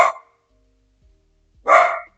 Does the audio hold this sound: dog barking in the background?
yes